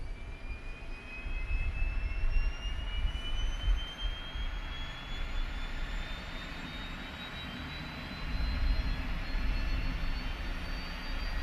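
Simulated Boeing 757 RB211 jet engines in X-Plane 12 give a continuous roar under a high whine whose pitch slowly climbs as they spool, steady and loud throughout with no talking.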